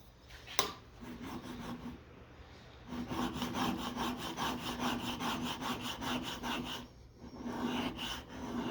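A freshly sharpened whittling knife shaves wood in repeated close, rasping strokes, each a dry scraping rub, continuing steadily with brief pauses between passes.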